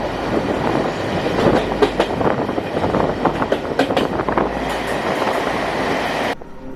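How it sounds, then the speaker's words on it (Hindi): A heavy goods train with a banker locomotive attached at its rear works a steep ghat section, a loud continuous rumble with wheel clatter and rolling noise throughout, cutting off abruptly near the end. "घाट सेक्शन पे जो भारी भरकम ट्रेन्स होती हैं उनमें बैंकर्स अटैच किए जाते हैं"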